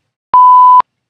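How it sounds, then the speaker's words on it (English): A single loud, pure-tone censor beep of about half a second covers a spoken store name and cuts off sharply at both ends, with silence on either side. "I would have to beep out all three of those"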